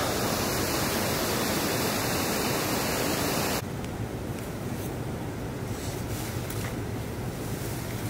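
A mountain river rushes steadily near North Annapurna Base Camp, a loud, constant broadband roar that drops to a quieter, softer rush partway through, with no voices.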